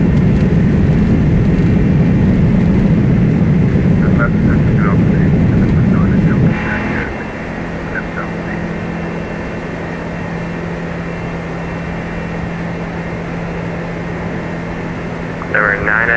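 In the X-Plane 12 flight simulator, an Airbus A330neo's jet engines give a loud, steady roar that drops off sharply partway through to a quieter hum and whine, with radio chatter heard over the engine noise.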